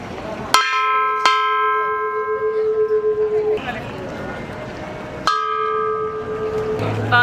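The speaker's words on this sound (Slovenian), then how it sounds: "Zvon za srečo." A large temple bell at the White Temple in Chiang Rai is struck twice, each strike ringing out with a bright metallic clang and a long humming sustain that fades slowly, with faint voices and ambient noise behind.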